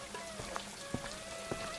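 Rain falling steadily in a soft, continuous patter, with a few sharper drips landing near, all at low volume and without voices.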